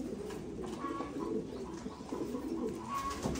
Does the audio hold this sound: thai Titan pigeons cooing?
yes